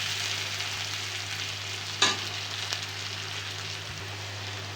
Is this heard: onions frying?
yes